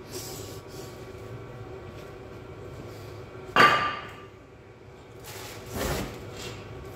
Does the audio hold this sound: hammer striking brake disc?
yes